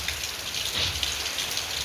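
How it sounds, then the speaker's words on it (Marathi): Steady heavy rain drums down, a close, constant wash of falling drops with no pauses. "लय पाऊस चालू आहे"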